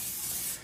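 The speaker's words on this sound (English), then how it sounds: "We want to spray her down with Pam real good." Pam cooking spray sprayed onto a beef roast in a can cooker, one brief faint hissing burst that cuts off near the end.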